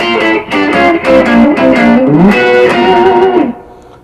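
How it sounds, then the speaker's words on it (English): Distorted electric guitar plays a bending pentatonic riff with slurred double-stops, loud and close, ringing out then fading at the end. "It's a pentatonic riff, and it involves some slurred fourths"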